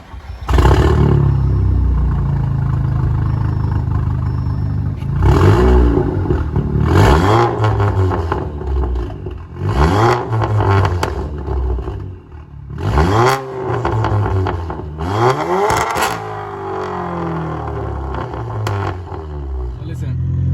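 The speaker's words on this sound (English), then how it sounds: "Let me turn on the car so you guys can." A stage 2 tuned 2015 Audi S3 starts and revs repeatedly, with loud, close engine roars rising and falling in several sharp bursts, and pops and bangs between revs.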